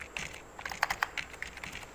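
Someone types an SQL query on a computer keyboard, producing quick, uneven clusters of close keystroke clicks with no talking.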